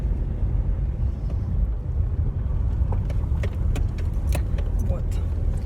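A car drives along with a steady low road rumble and some wind buffeting, while small keys or objects jangle and click inside the cabin, and faint voices may be present.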